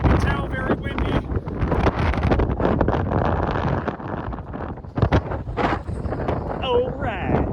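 Strong outdoor wind buffets the microphone in loud, continuous gusts beside a rooftop HVAC unit running both cooling stages, with a voice speaking over the roar.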